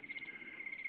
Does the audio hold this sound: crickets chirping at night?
yes